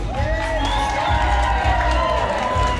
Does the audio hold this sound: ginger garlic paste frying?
no